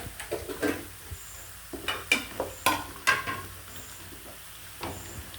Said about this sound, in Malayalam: ഇതിലേക്ക് നമ്മൾ കറിവേപ്പില ചേർക്കുകയാണ്.